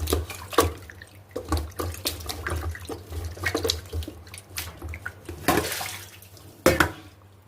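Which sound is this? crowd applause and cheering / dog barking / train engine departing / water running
water running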